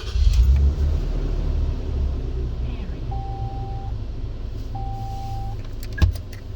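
A Toyota FJ Cruiser with an A750 automatic transmission idles low and steady, a close continuous rumble with faint whirring and a brief knock near the end.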